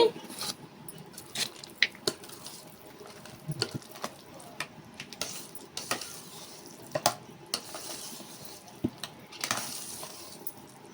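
A spoon works through a pot of jaggery pongal (bellam pongali) mixed with fried lentils, making repeated scraping and clacking strokes in an uneven rhythm, close and moderately loud.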